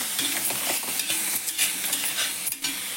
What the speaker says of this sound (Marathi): टोमॅटो, कोथिंबीर टाकते, त्यात थोडीशी आलं लसूणची पेस्ट टाकते मी. त्यात थोडी मिरचीची पेस्ट टाकते